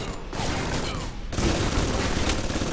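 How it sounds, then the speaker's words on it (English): Sustained turret gunfire with infinite ammo during the final battle of Alpha Protocol, a dense, continuous barrage of rapid shots with booming impacts, loud and close, briefly dipping before pounding on. "during this final battle, where you're given a free turret with infinite ammo"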